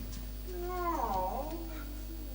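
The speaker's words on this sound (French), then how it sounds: "C'est le chat du voisin." A neighbor's cat meows once, a drawn-out wavering cry rising and falling over about a second, fairly near but modest in level against a quiet room with a low background hum.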